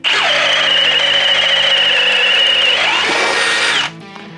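Milwaukee M18 drill boring a hole with a one-inch spade bit: a loud, sustained high motor whine under load, the pitch sagging slightly late before the drill stops abruptly, no talk.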